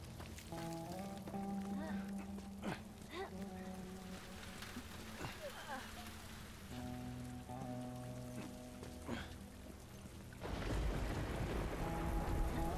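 Steady rain shower falling in The Last of Us, a constant broadband hiss of drops on surfaces throughout, with game music tones and brief voice moments layered over it, swelling heavier near the end.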